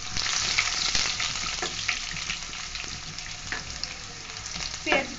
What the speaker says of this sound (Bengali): পেঁয়াজ গুলো একটু বাদামি করে ভেজে ফেলবো